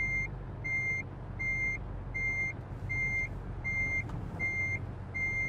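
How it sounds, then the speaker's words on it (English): A truck's reversing beeper in American Truck Simulator sounds a steady, evenly spaced series of high electronic beeps, about eight in all, over a low rumbling engine drone. "I just went into forward gear and the reverse beeper stayed on."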